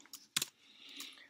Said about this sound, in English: you can start typing the name and hit tab